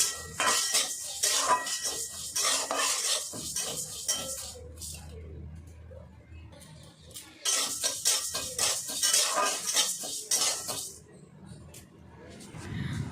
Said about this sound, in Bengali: তো মুগ ডাল এখন আমি ভেজে নেব।